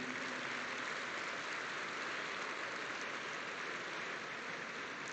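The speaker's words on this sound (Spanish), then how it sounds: "Vamos a darle un aplauso a todos los ancianos que están en esta mañana aquí." A church congregation applauds the elderly with a dense, even wash of clapping that holds steady from start to finish, heard at a moderate distance without any voices.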